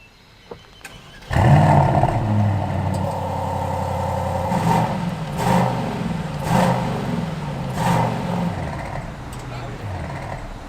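A 2023 performance SUV's engine is started and revved hard in loud exhaust mode: a deep, close roar with several rising rev bursts, then idling, while someone talks over it.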